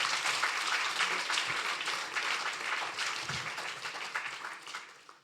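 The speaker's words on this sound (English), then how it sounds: "Please welcome him with a huge round of applause." Audience at a Franco-Indian law and business forum applauding a speaker's welcome, full, sustained clapping that holds steady and then tapers off toward the end.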